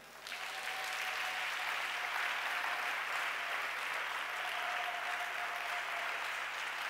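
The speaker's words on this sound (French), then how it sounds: "Acclamons-le." A church congregation breaks into loud, sustained applause that fills the room, a dense steady roar of clapping from many hands with a faint tone running beneath it.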